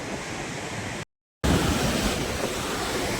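Sea waves at RK Beach in Visakhapatnam roar as a steady broadband wash, loud and continuous, cut by a brief gap of silence before the surf resumes even stronger.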